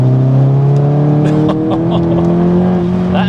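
A Cupra 280 car, a front-wheel-drive road car tuned to 556 bhp, accelerates hard with a loud, steady rising engine note and tonal whine, and voices are heard over it.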